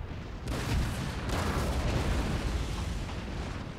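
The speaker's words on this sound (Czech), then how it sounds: "A jaký dělo tak blbě střílí?" Deep booming cannon blasts in Empire: Total War with a sustained rumbling roar, loud and continuous, like heavy cannon fire echoing across a battlefield.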